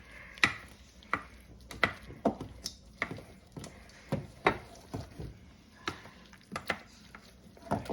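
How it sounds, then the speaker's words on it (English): Cooked garlic, pumpkin and carrot being mashed in a pot for veggie soup, a series of sharp, close taps and squelches spaced irregularly, about a dozen strikes in quick succession. "So all I'm gonna do, I'm just gonna mash this out."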